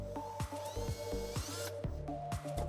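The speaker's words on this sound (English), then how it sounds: "and go ahead and drill." A drill fitted with a 1/16 bit bores through a Jeep Wrangler JL molded mud flap in short, stop-start bursts of whirring close by, broken by clicks and handling noises.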